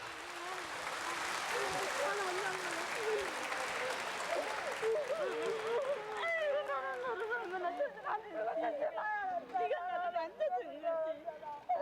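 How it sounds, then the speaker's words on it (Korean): A live studio audience at a 1983 Korean broadcast reuniting separated families claps steadily at first. The applause then thins as emotional voices and talk rise over the fading clapping. "여러분 축하의 박수 네. 부탁드립니다."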